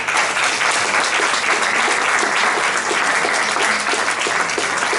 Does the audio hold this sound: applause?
yes